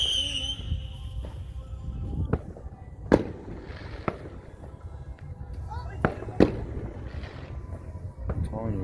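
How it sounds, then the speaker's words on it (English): Fireworks go off at an outdoor party, with sharp bangs and crackling bursts scattered across the clip over constant crowd noise and nearby voices. "They got the best fireworks."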